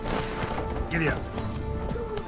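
A horse gallops in The Witcher 3: Wild Hunt, with rapid rhythmic hoofbeats pounding under a voice speaking over them.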